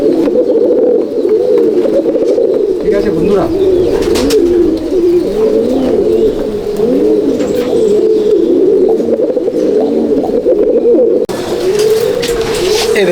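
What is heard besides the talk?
Andhra and Madrasi pigeons cooing in a loft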